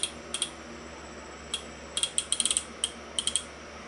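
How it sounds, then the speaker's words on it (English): Close, crisp ratcheting clicks from a Nexbelt Supreme appendix EDC belt buckle, sounding in quick irregular bursts of single and rapid multiple clicks with short pauses between, with no talking. "it ratchets at a quarter inch at a time"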